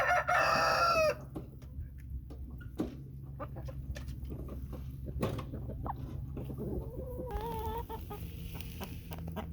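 A rooster crows loudly at the start in a barn bedded with sawdust, then chickens cluck and murmur steadily with scattered sharp calls and a rising cackle near the end, no talking.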